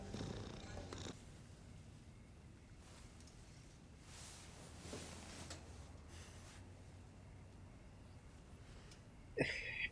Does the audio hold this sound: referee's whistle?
no